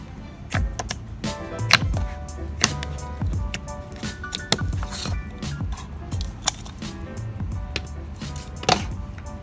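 Thick peanut butter slime squished and pressed close up, giving a steady run of sticky clicks, crackles and small wet pops, with no talking.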